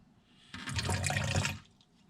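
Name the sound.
water filling a sprouting tray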